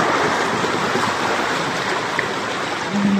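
Deep floodwater being waded through on the way to a barangay, a steady, dense wash of sloshing and rushing water close by, unbroken for the whole stretch with no voices.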